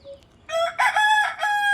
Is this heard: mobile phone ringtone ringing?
no